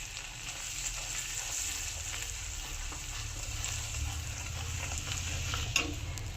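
Two spoons of gram flour (besan) fry in a little oil, a soft, steady sizzle with faint stirring scrapes and an occasional light clink, close and without talk.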